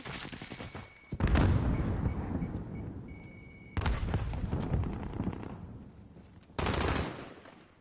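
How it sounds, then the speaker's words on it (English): Gunfire and blasts in Modern Warfare, sudden loud booming bursts at regular intervals with rumbling tails and rapid shots, one of which could be the grenade going off, close and dense. "Grenade!"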